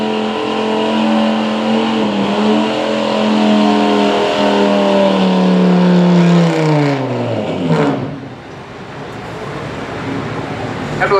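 A 1999 Ford F250 truck roars at full throttle during a truck pull in Caldwell, Ohio, loud and sustained with a high revving whine, then the engine pitch sags and winds down as the run ends.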